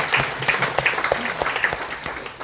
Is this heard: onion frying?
no